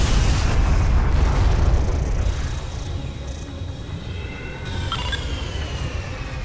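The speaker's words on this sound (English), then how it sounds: "Sathanas has been destroyed." The Sathanas destroyer blows apart in the space combat game Freespace 2, a loud, deep rumbling explosion that fades slowly, with faint electronic chirps and tones over the tail.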